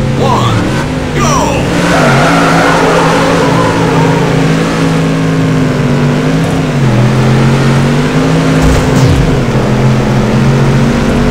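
Ford Mustang race cars in a PS2 racing game launching off the start line on a warm, humid night in the Mardi Gras city, a loud steady engine roar with shifting pitch and revving that holds throughout.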